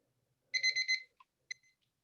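A timer alarm sounds after nine seconds: a short burst of rapid electronic beeps followed by a brief single beep, clear and close with nothing else around it.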